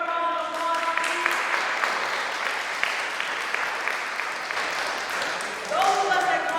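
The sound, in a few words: audience applause for violinist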